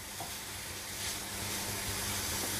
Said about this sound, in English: So I'm going to shallow fry this grated carrot. Keep stirring it on low to medium flame